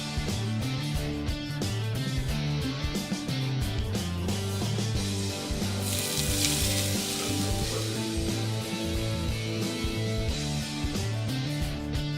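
Steady, loud sizzling and crackling of grated potatoes frying in a hot pan, with occasional stirring scrapes and no talking.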